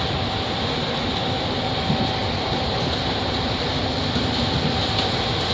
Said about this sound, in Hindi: ये रुकते रुकते जाती है पैसेंजर ट्रेन।